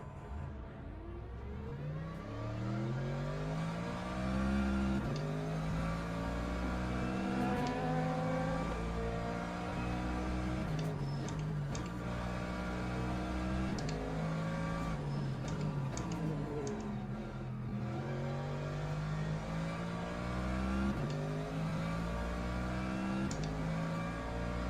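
An LMGT3 race car in Le Mans Ultimate revs hard and steadily, its engine pitch climbing and falling through repeated gear changes for the whole stretch, loud and close with no voices.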